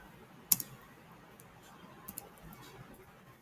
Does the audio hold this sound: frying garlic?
no